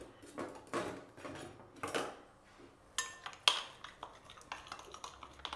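Garlic, ginger and oil are mixed in a bowl while making pizza, producing a series of light clinks and knocks of a utensil against the dish at irregular intervals, close and fairly quiet.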